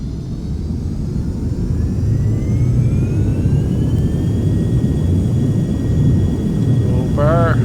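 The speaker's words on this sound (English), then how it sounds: "Listen to them engines." A Premier 1A business jet's engines spool up on the runway with a rising whine over a heavy low roar, loud and close, while people talk over the noise.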